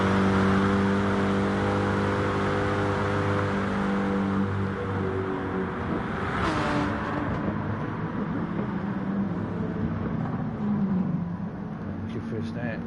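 BMW and Porsche race cars on Tokyo Expressway South Inner Loop in a racing video game, engines droning and revving with a pass-by sweep, heard under continuous race commentary.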